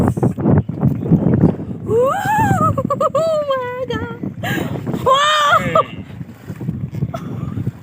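A boat moves along a river with wind buffeting the microphone and a low rumble, while people exclaim excitedly over it.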